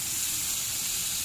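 Okra frying with dried chillies in a kadai gives a steady, close hiss and sizzle that stays even throughout, with no talking.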